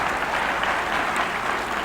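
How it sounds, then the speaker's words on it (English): Sustained audience applause at a 1992 Democratic primary presidential candidates' debate, a dense, steady clapping from a large crowd filling the whole stretch at an even level with no speech over it. "we'd appreciate it if you'd refrain from applause, please"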